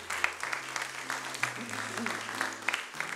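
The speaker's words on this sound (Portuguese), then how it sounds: "Vamos dar uma salva de palmas pro Mão Rodrigo?" Applause from a church congregation at a children's Mother's Day service, moderate and steady with some voices and tonal background sound running underneath.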